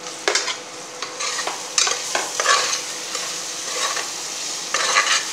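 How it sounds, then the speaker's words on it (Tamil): Masala for chicken kulambu frying in a pan and stirred briskly, a loud close sizzle broken by repeated scraping spoon strokes. "பச்சை வாடை போகிறது வரைக்கும் கொஞ்சம் நேரம் ஃப்ரை பண்ணிக்கோங்க"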